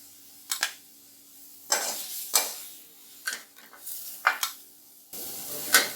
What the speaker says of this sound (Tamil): இதையும் பிளேட்டில் ட்ரான்ஸ்ஃபர் பண்ணிக்கலாம்.